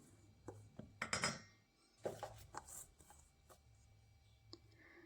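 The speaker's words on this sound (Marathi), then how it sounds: "हे छान असं मिक्स करून घ्यायचं आहे" Coconut biscuit dough of desiccated coconut, vanilla essence and a pinch of soda being mixed in a bowl, giving soft scattered clicks, scrapes and taps in short bursts, fairly quiet and close, with no talking.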